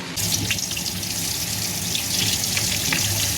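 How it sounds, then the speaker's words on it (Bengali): Eggplant fries in a pan with a dense, continuous sizzle and crackle, close and fairly loud, with faint clinks mixed in and nobody speaking. "বেগুন ভাজছি"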